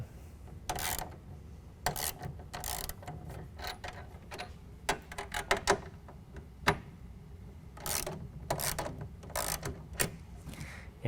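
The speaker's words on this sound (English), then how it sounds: "These are 7/16 nuts. I loosen them up off of the bolts" A ratchet loosens 7/16 nuts on the bolts of a RollBAK G2 tonneau cover on a 2012 Dodge Ram 1500, giving bursts of quick, close clicking with short pauses between.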